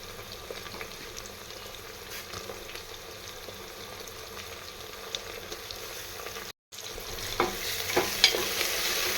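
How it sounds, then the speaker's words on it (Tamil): Onions and chopped tomatoes sautéing in a pan for a coconut milk rice dish, a low steady sizzle with occasional soft scraping strokes of a spoon, briefly cutting out before resuming a little louder. "தக்காளியையும் சேர்த்து நல்லா வதக்கி விட்டுக்கோங்க."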